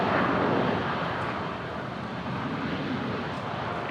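A Virgin airliner on a Sydney to Sunshine Coast flight lands on runway 01 left at Brisbane airport, a steady, loud, broadband jet roar that holds without a break.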